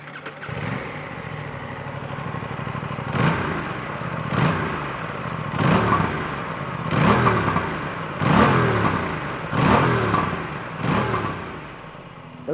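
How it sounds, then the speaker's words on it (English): An Aprilia Tuono 457 parallel-twin motorcycle engine revs repeatedly, each rise of throaty exhaust growl falling back to idle, loud and close with no talking. "The bike also retains the throaty exhaust note or that growl of the RS 457's motor"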